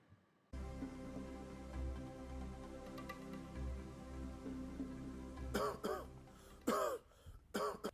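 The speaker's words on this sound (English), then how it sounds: "Keep coughing." A person coughs repeatedly during a CPR choking demonstration: a steady low hum runs underneath, then several harsh, close coughs come in irregular bursts near the end.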